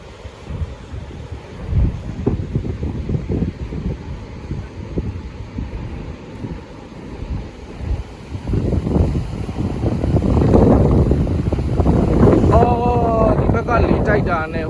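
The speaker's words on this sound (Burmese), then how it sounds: "လေတိုက်တာနဲ့ဟိုဘက်ကလှိုင်းရရိုက်တာနဲ့" Wind blows and waves wash at Grandfather Beach in Myanmar, where boats are moored, a steady rushing roar with gusts buffeting the microphone and growing louder, while people talk nearby.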